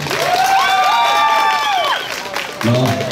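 A crowd at a zapateado dance contest in Wendell, North Carolina applauds steadily, with high whooping cheers rising over the clapping and a brief dip before the noise swells again.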